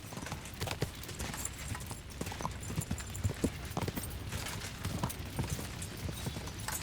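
Horse hooves clip-clopping at a steady trot in the video game Kingdom Come Deliverance 2, a run of even, moderately loud thuds over a soft background bed, with no voices.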